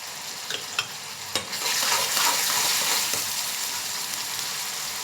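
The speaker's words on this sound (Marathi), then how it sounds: "आपण या कांद्यामध्येच मीठ टाकून घेऊया, म्हणजे कांदा लवकर पटकन शिजेल." Sliced onions with salt drop into hot oil in a pan and break into a loud, steady sizzle. A few soft clicks come first, then the frying hiss runs close and unbroken to the end, with no voices.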